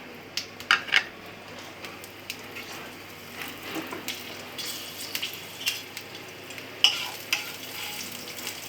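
Nigella seeds and a torn green chilli sizzle in hot oil for a bottle gourd peel stir fry, a steady close crackle broken by sharp spitting pops and light stirring clinks, with no talk.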